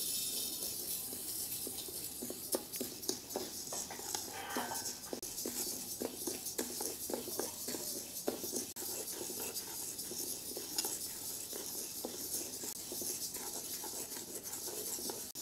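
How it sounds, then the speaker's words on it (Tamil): Whole black gram (urad dal) with skin roasting in a pan, giving soft dry scratching, rustling and gentle sizzling with scattered faint clicks of grains shifting, steady and quiet with no talk. "தோலோடு நம்ம உளுந்து வந்து வறுத்து எடுத்துக்கலாம்"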